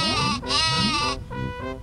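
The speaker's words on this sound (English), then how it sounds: "Sheep launcher? Catch it." A cartoonish sheep bleats loudly from the sheep launcher weapon in the Worms Armageddon video game, a wavering, warbling bleat that repeats in several bursts with no talk over it.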